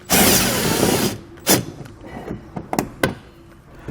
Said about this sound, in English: We'll remove them with an 8mm socket.